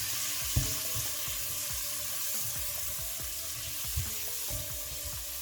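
Spring onions sizzling in a hot pan for ackee and saltfish, with repeated scraping and clacking stirs at an irregular rhythm over a constant close frying hiss.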